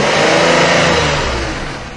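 A 2005 Buick engine revs hard under load, a loud, steady mid-pitched roar with a rough edge that holds and then slowly fades over a couple of seconds, with no voices.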